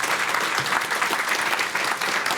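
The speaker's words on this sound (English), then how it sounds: "Round of applause for them." Audience applause for a panel at a policy discussion event: a loud, dense burst of many hands clapping together, sustained and close, with no one speaking.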